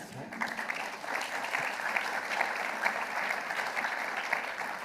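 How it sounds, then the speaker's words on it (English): Applause from the audience at a community conversation event on education, moderately quiet and sustained, a fairly even wash of many hands clapping with small swells. "A round of applause"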